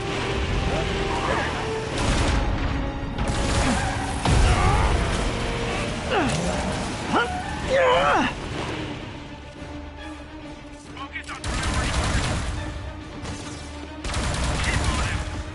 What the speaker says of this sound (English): It's a high-speed chase with indiscriminate gunfire.